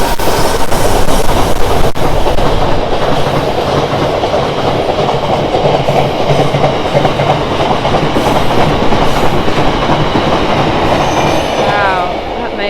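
An aggregate freight train passes through Basingstoke station in a loud, sustained roar of wagons with rhythmic clickety-clack and a brief wheel squeal near the end, heard close and steady throughout.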